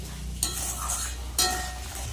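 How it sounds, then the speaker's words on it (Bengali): Spice paste with turmeric, chili powder and salt stirred in hot oil, a soft steady sizzle with two sharp scrapes of a spatula against the pan. "ভালো করে মশলাটা কষিয়ে নেব"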